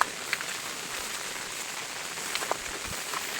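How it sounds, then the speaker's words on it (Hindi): Rain falls in a jungle with a soft, continuous hiss and scattered closer drops pattering on surfaces, fairly faint and without talk. "आज बारिश के पानी में ही हम लोग नहा लेंगे ऐसा लग रहा है।"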